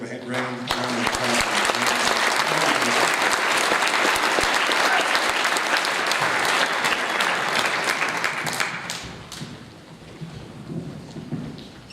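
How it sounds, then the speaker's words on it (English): Loud, sustained applause fills a football end-of-year banquet hall, a dense clapping crowd that holds steady for about nine seconds before thinning into scattered claps and murmuring voices. "Give a round of applause."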